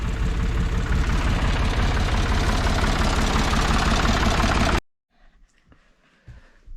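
A vehicle engine runs with a loud, steady close-up drone for several seconds, then stops abruptly, leaving faint background noise.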